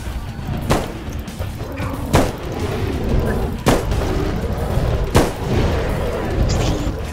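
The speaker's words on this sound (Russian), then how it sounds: "Я стреляю по нему." Four loud, sharp gunshots ring out at roughly one-and-a-half-second intervals, each a broadband crack over a steady rumbling wintry outdoor background in a snowy park during a mock bigfoot hunt.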